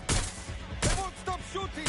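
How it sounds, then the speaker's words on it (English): Gunfire in the video game Watch Dogs: Legion, a few sharp loud shots spaced through a short burst, with a voice heard between them. "They won't stop shooting!"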